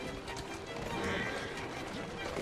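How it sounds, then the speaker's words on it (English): In Assassin's Creed Syndicate, a horse pulls a cart at a gallop with steady clip-clopping hooves and rolling wheels, while voices talk loudly over it. "Where is the cart still going? Because the horse is attached to it."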